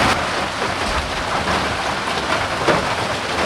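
Steady rain falls around a small house near Mount Isarong, making a dense, even hiss that stays close and unbroken throughout, with no voices.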